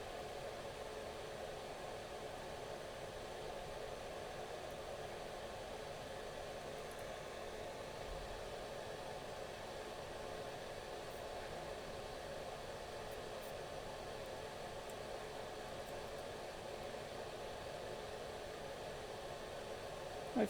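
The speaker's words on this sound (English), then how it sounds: "My fume extractor's not doing a huge amount because it's on the wrong side." A small fume extractor fan at a soldering bench gives off a steady, faint, even whoosh of air that runs unchanged throughout, with no talking.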